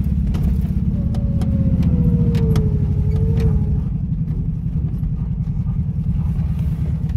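A ZAZ-965 car drives off-road through hard sand, its engine droning steadily and loudly up close with a brief rising whine partway through, alone without talk.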